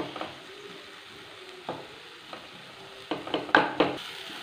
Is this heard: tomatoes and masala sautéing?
yes